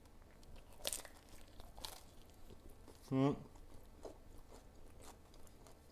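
A single crisp bite into pan-cooked lahmacun topped with fresh spring onion gives one short, close crunch around the middle, with a soft background hush on either side.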